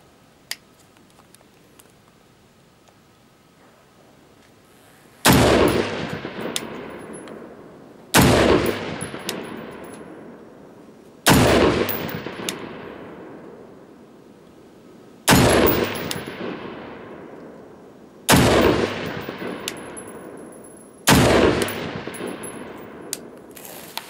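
Six loud, sharp rifle shots from an Ensio Firearms KAR-21 multicalibre .223/.308 rifle, spaced a few seconds apart, each cracking close by and trailing off in a long outdoor echo.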